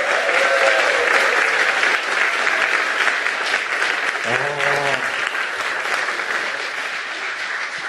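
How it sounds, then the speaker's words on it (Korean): A Korean Baptist church congregation gives two people a loud, sustained round of applause, with a voice briefly heard over the clapping midway. "오늘 이 두 분에게 박수 한번 주시면 감사하겠습니다"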